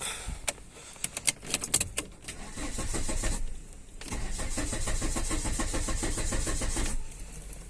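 Close keys jangle with a few clicks, then a Fiat car engine cranks for several seconds, pauses, and cranks again into a rough, uneven run.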